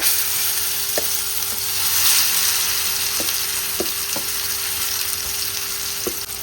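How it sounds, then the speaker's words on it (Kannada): Ground amla (Indian gooseberry) paste fries in a pan, a steady close sizzle broken by several light scraping taps of a spoon stirring it. "ಚೆನ್ನಾಗಿ ಇದನ್ನು ಫ್ರೈ ಮಾಡ್ಕೊಳ್ತೀನಿ."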